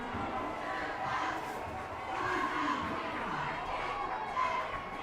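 Crowd at a high school football game, Coalinga versus Dos Palos, roaring and cheering in a loud continuous wash with shouts rising through it.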